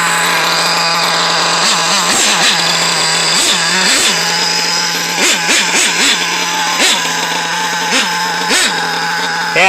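A Kyosho MP9 TKI4 nitro RC buggy with a modded .32 engine idles high, a loud buzzing whine held close and steady, with repeated short throttle blips rising and falling throughout.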